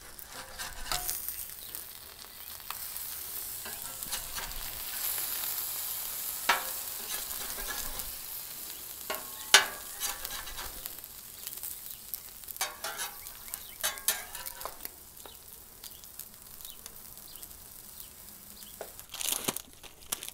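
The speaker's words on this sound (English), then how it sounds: "So now we got the tortillas cooking." Keto tortillas cooking on a griddle, a continuous crackling sizzle with scattered pops, scrapes and crinkly handling noises throughout, no talk.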